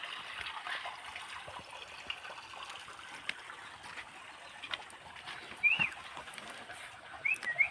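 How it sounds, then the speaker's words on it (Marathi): Water flows steadily in a hot spring pool outdoors at Unhavare, Mandangad, a soft, faint, continuous rushing hiss, with a few brief bird chirps near the end. "तर मित्रांनो ही ना आपली गरम पाण्याची तळी आहे, बघू शकता बघा."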